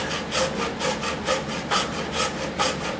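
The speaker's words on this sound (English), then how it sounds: "But this here particular hacksaw, the blade sometimes folds over on me, so it may not cut real perfect." A hacksaw with a blade prone to folding over cuts a wooden piece by hand, loud close rasping strokes in a steady back-and-forth rhythm, about seven strokes, with no talking.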